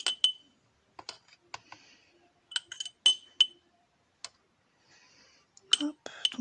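A spoon clinks against a small pot while scooping very fine talc for scrapbooking, giving scattered light, bright taps and clicks, some in quick pairs, amid quiet pauses.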